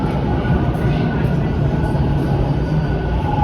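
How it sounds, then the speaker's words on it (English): A subway train pulls into Christie Station on Toronto's Bloor line, a steady loud rumble with rail noise filling the platform throughout. "Is that my train?"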